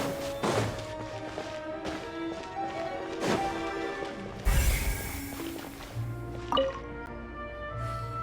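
Wet squishing and dripping liquid sounds with soft thuds, like something being stirred and mixed, at a moderate, quiet level, from the video game Genshin Impact.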